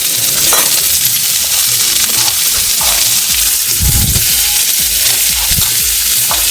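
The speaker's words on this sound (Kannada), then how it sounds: "ಈಗ ಬಿಸಿ ಆದಮೇಲೆ ನಾನು ಈರುಳ್ಳಿ ಹಾಕ್ತೀನಿ." Onions sizzling in a hot pan in a home kitchen, a continuous close hiss with small clinks and a soft thud partway through as they are stirred, no voices.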